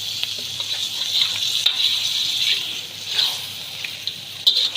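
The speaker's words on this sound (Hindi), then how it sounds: "चिकन डाल के अच्छे से आपने इसकी भुनाई करनी है" Chicken sizzles and fries in a karahi over a high flame as it is stirred, with a steady hiss and occasional louder scraping bursts of the spoon throughout.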